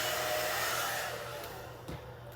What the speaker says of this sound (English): Also use a hair dryer to wake up the fibers and separate them.